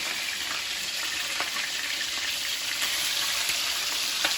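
Duck skin frying skin side down in a pan over medium heat, a steady close sizzle with light popping crackles running throughout, no talk.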